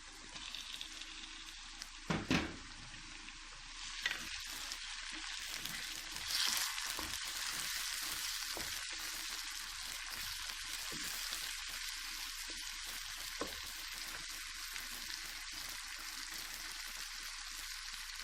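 Tomatoes dropped into a pan of sizzling fish curry, a steady hissing fry running throughout with a few brief louder bursts early on, no voices.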